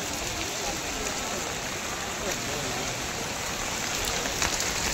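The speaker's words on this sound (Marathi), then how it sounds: "खूप जोरात पाऊस चालू झाला आहे" Heavy rain pours steadily onto a street that is already flooded with water, a dense, even hiss filling the whole stretch with no breaks.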